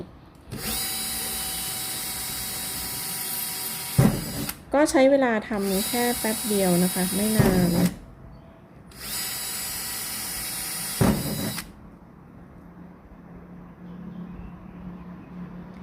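A power drill whines in loud bursts, its pitch wavering as it bites into smart board wall panel for a cat door, with someone speaking between runs.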